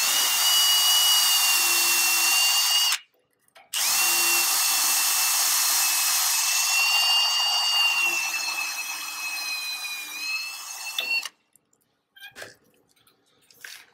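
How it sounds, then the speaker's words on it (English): A power drill boring holes through guide holes, a loud, close, whining motor with a steady pitch that runs for several seconds, stops briefly, restarts and gradually winds down, followed by quieter handling clatter. "I'll use my guide holes to drill all of the holes."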